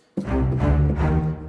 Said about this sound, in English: So Albion sounds like this